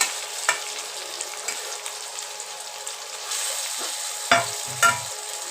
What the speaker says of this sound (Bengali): এবার আলু সেদ্ধটা দিয়ে দিলাম।